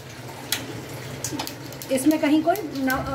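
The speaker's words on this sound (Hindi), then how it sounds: "अरबी को पहले से धो लेते हैं और अच्छी तरह से धोते हैं" Water running and splashing while taro root is washed by hand, a steady wash of flowing water with intermittent splashes, under someone speaking.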